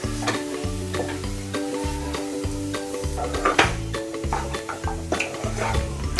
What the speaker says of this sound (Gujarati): હવે તેને બરાબર મિક્સ કરી લઈશું.